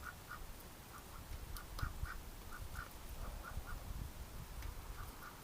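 Ducks on a winter property quack in short, repeated bursts, several calls spaced irregularly at moderate distance over a quiet outdoor background.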